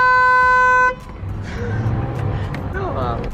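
A Toyota Supra's car horn gives one loud, steady honk lasting about a second, then cuts off as people talk over background road noise.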